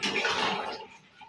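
Cooking pot scraped and knocked while boiled potatoes are stirred together with a little sugar, giving a dense clatter of utensil on metal that is steady for about a second and then fades quieter, with no voices.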